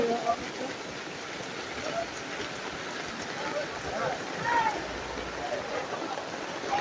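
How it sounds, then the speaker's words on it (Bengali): Heavy rain pours down at an outdoor market, a steady dense hiss of drops on surfaces filling the whole stretch, with faint scattered voices and brief tonal calls in the background. "এই যে বৃষ্টি।"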